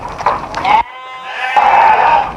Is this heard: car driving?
no